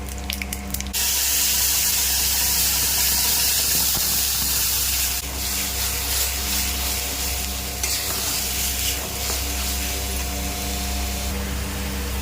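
Cumin seeds sizzle in hot oil in a kadai: a loud, continuous crackling hiss that swells briefly, with a few clinks near the start, close by.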